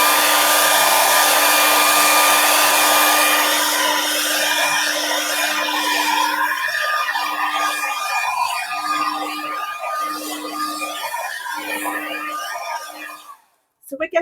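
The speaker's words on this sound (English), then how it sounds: "here comes the hairdryer." A hair dryer blows steadily and loudly to dry a watercolour painting, a continuous whirring hum that holds for most of the stretch before cutting off near the end.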